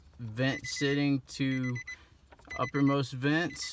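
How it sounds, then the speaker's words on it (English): A steady electronic door-open warning chime from a 2005 Nissan Frontier beeps repeatedly in the background while someone talks close up over it. "Sorry for the beeping, got the door open"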